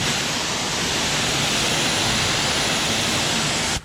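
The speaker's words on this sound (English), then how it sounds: "I want you to take note to how far away I'm spraying the water from" A pressure washer blasts water onto the siding of a mobile home, a loud and dense hiss that holds steady for a few seconds and then cuts off abruptly.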